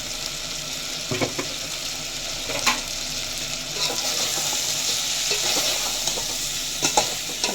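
Chili powder and turmeric get stirred through a sizzling pan mixture for ulavapindi sambar, a steady close frying hiss broken by scattered scrapes and knocks of the spoon against the pan, with no voices.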